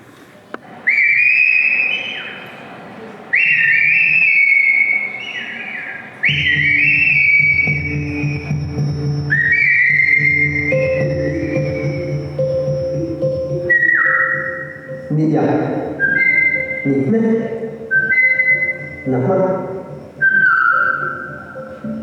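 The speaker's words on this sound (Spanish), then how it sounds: "El mazateco chiflado nace a través de la necesidad de comunicarnos a grandes distancias" A sequence of long, pitched whistles of Mazatec whistled speech rises and falls like phrases of speech, with pauses between, alternating with lower voiced tones.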